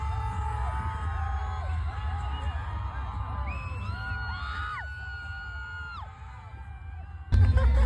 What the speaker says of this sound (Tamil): பாருங்களேன் எப்படி கத்துறாங்கன்ட்டு